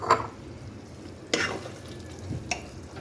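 Fried potatoes being stirred into chicken pulao in a pan: a few separate scraping stirs spaced about a second apart over a low, soft frying hiss, fairly quiet and close.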